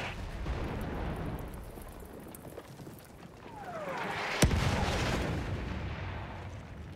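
Enemy artillery barrage in the video game Battlefield 1, a continuous low rumble of distant fire swelling toward one sharp close blast near the middle, with falling whistles and rumbling aftermath.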